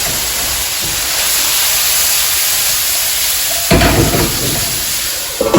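Cauliflower cooking under a lid in a single pan gives off a steady, loud sizzling hiss with no break. A sharper burst of frying crackle rises near the end.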